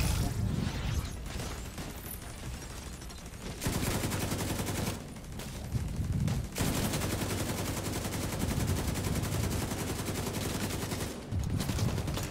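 Gunfire in The Division 2 on PC, including a Nemesis sniper rifle shot, comes as a dense, loud run of repeated shots and bursts with brief pauses between volleys.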